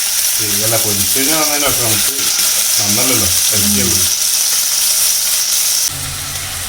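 Chicken frying in a pan for Kanthari creamy chicken gives a loud continuous sizzle, with a voice speaking over the hiss through the first few seconds before the sizzle carries on alone at a slightly lower level.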